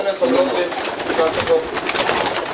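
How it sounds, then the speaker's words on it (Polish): Pigeons coo softly in the foreground near their loft against a steady outdoor hiss, with a few faint voices in the background. "one oblatają się wokół gołębnika"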